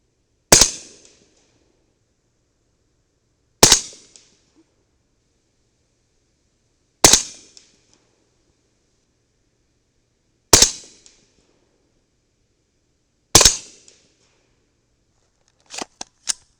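Five sharp, loud rifle shots from a 300 Blackout firing through a CMMG 8-inch barrel, each evenly spaced about three seconds apart and ringing out alone, followed by a couple of quick metallic clicks at the end.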